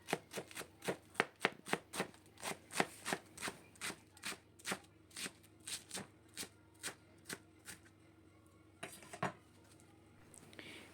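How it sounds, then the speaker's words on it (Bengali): Lettuce sliced with a knife on a board for a mixed salad: a quick run of crisp, evenly spaced chops, close and clear, slowing and thinning out toward the end. "লেটুস এরকম স্লাইস করে আমি কেটে নেব।"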